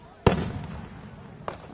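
Fireworks bursting outdoors at a stickball tournament's closing night, with one sharp loud bang and a decaying rumble, then a fainter second pop about a second later.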